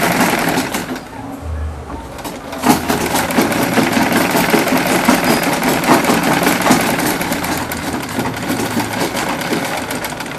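A sewing machine runs continuously while stitching African men's native wear, buba and sokoto, a loud, steady motor whir with rapid needle chatter holding for about ten seconds without pause.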